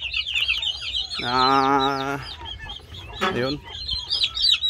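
Young turkey chicks in their pen give high, wavering peeps, mixed with a couple of louder clucking calls from fowl, while someone talks briefly nearby.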